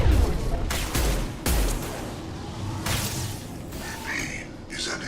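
Mass Effect 2 ship weapons firing on a vessel: a series of heavy booming volleys and sharp blasts with whooshing tails, loud and close, and a voice speaks between them.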